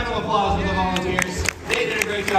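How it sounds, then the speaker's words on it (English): An audience at a Disney's Animal Kingdom bird show applauds the volunteers, with scattered clapping and crowd noise mixed under talk in an outdoor setting. "How about a round of applause for the volunteers?"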